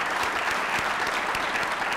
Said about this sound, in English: Let's give Tim a round of applause.